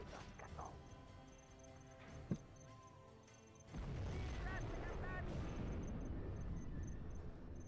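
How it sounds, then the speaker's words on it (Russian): A nuclear explosion in the real-time strategy game Command & Conquer: Generals, played on the China side, sets off a sudden loud, sustained rumbling roar. It follows quieter game effects and continues steadily to the end. "Так, ядерный взрыв."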